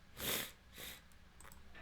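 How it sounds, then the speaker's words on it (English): Two loud, breathy sniffs close by, followed by a few quieter nasal sniffles, with no talking. "sorry for the sniffling"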